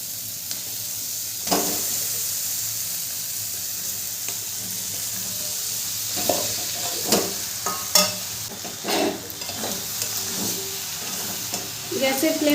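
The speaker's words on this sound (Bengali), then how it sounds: "আলুটাকে ভালো করে কষিয়ে নেব" Boiled potato with garam masala stir-fried in a pan for egg chops: a steady low sizzle with repeated scraping strokes of a spatula against the pan, the clear stirring scrapes coming every second or so.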